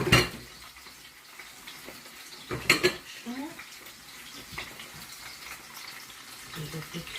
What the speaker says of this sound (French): Et je fais cuire les souris d'agneau